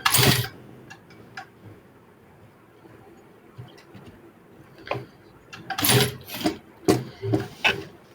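Short bursts of a sewing machine stitching the placket of a men's qameez shirt, several quick runs clustered toward the end with quiet pauses between them.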